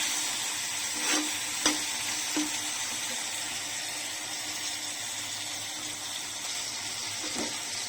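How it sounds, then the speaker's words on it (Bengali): Tomatoes added to fried spice paste sizzle in a pan, a steady hiss broken by a few short scraping stirs spread across the stretch. "এখন টমেটোগুলো দিয়ে দিচ্ছি। টমেটোটাকেও একটু নাড়াচাড়া করে একটু সফট করে নেব।"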